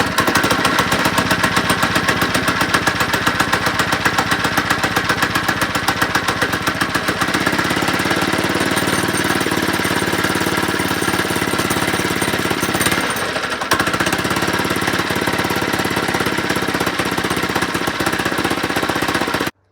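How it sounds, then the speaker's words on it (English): Small engine on a homemade lowrider go-kart running, a loud, rapid, steady chugging rattle that holds for about twenty seconds with a brief dip near the end, with no voices. "So the engine still runs"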